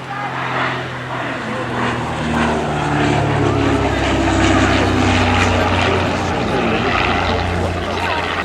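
A Catalina aircraft makes a display flight at the 2005 Festival of Flight at Blenheim Palace. Its engines give a loud, steady propeller drone that swells slightly as it passes and holds throughout.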